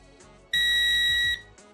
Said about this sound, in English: And wait for the long beep.